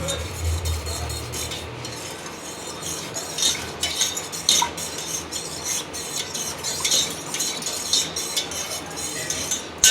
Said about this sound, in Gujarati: ચાલો મિક્સ કરી લઈએ ચમચી તો હશે